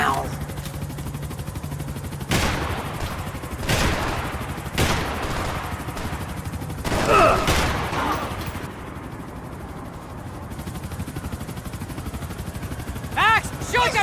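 Gunfire from Max Payne 3: several loud, sharp bursts of shots spaced a second or so apart, with gaps of ambient noise between them and speech at times alongside.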